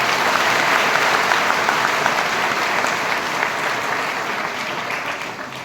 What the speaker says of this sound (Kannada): ಅವರಿಗೊಂದು ಜೋರಾದ ಚಪ್ಪಾಳೆ.